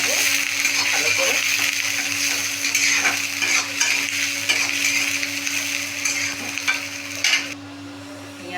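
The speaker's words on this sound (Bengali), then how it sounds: "এবার একটু নেড়ে নেবো ভালো করে" Onions fry in a pan with a constant close sizzle while a utensil stirs them, scraping and clinking at irregular moments against the pan; near the end the frying noise drops off slightly.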